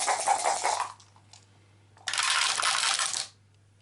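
Five dice are rolled in an Arkham Horror board game, two bursts of rapid clattering on a hard surface separated by a short pause, close and crisp over a faint steady background hum.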